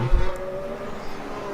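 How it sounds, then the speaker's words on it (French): Formula 1 cars during the second practice session of the 2022 Mexico Grand Prix give off a faint, steady engine whine, distant and brief with no one speaking. "Le son des moteurs"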